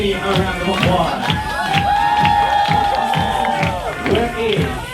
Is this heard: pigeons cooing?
no